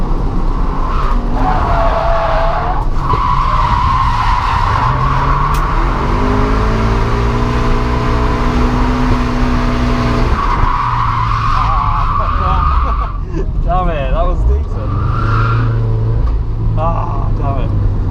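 Toyota GT86 drifting, with long screeching tire squeals, engine revs rising and falling, and loud skids close by; someone talks over the noise.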